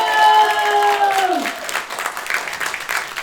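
Audience applauding for the production team at a school stage production of James and the Giant Peach, steady clapping filling the room after a brief tonal sound fades out at the start.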